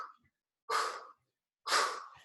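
Heavy breathing during mountain climber exercises: two loud, rhythmic breaths close to the listener, each a long forceful exhale, with a brief breath at the start.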